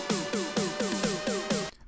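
Two layered electronic snare drums in a progressive house track hit in an even repeating pattern, six sharp, bright strikes each with a falling pitched tail, loud and dry, stopping abruptly.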